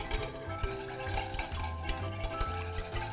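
Eggs quickly stirred into milk for a lime vanilla custard, producing a busy, close, continuous swishing and scraping with rhythmic knocks against the bowl.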